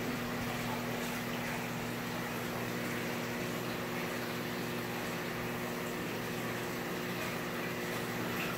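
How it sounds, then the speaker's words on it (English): Water from the filter of a big indoor koi and goldfish pond flows out in a steady, even rush, with a constant low pump hum underneath and no pauses. "You can see that water flow coming out."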